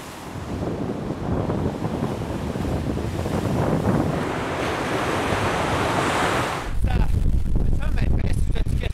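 Surf waves breaking on Lake Ontario in near-freezing water, with strong gusty wind roaring across the microphone; a steady loud wash of surf and wind runs throughout, growing harsher with heavy buffeting near the end.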